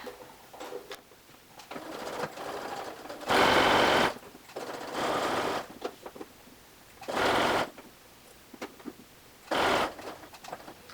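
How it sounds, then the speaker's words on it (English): Sewing machine stitching a neckline facing on fabric: four loud bursts of rapid running stitches, each a few seconds long, separated by quieter pauses with small clicks and fabric handling, close up and without talk. "You can do it with your seam allowance up, or you can put it in your machine I prefer to stitch this way with the facing up."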